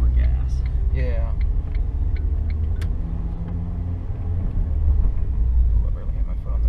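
Manual-transmission car engine rumbling low as the revs drop and climb back up during a clumsy clutch start by a learner driver, close and steady, with voices talking over the engine.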